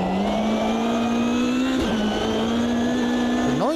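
A GT race car in Automobilista 2 holds a steady, high, buzzing engine note under load, with a brief dip at a gear change and a rising rev near the end, loud and close with no talk.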